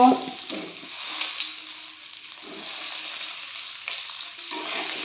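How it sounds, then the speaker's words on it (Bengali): Potatoes frying in oil left from frying cauliflower, giving a steady sizzling hiss with a few soft clatters as they settle. "এবার এই তেলের মধ্যেই আমি আলুগুলো ভেজে নেব।"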